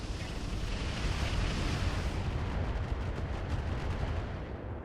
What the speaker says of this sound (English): Those mortars coming in on the stealth.